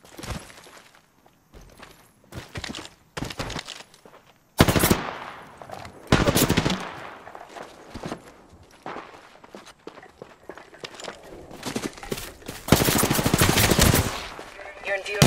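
Automatic weapon fire from the shooter game Apex Legends, loud bursts of rapid shots in several separate volleys, with footsteps and game clatter between them.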